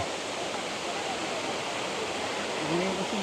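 Bolinao Falls waterfall in Pangasinan gives a steady, broadband rush of falling water, continuous and fairly loud, with faint voices briefly audible beneath it.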